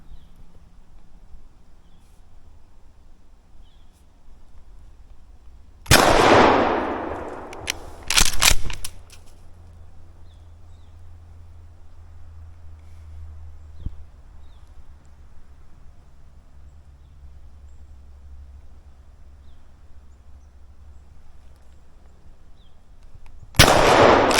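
Two shotgun blasts fired at a squirrel in a winter woods ring out close together, each sharp and loud with a short echoing tail. Quiet outdoor stillness surrounds them, and a third burst comes at the very end.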